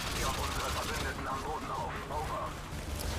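Rapid gunfire crackles through a Modern Warfare 2 co-op match, dense bursts of shots layered under a voice talking in German.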